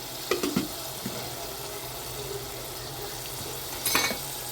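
Chopped tomatoes being stirred into onions sizzling in a hot pan for a prawn gravy, with a steady fry hiss broken by a few scraping spoon strokes near the start and a louder stirring burst near the end.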